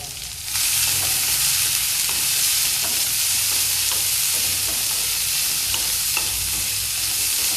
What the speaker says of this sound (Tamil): இது கொஞ்சம் எண்ணெயிலே நல்லா வதங்கட்டுங்க